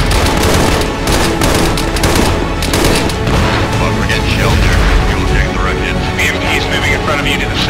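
Dense gunfire in the military video game Arma 3: continuous loud bursts of automatic weapons and heavy booming impacts over a constant roar, with shouted voices under the shooting.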